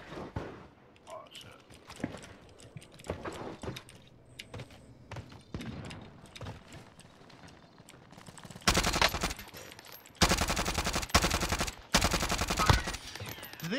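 Krieg rifle fire in Call of Duty Warzone: faint scattered shots early on, then loud, fast automatic bursts in several long strings, close and dominant.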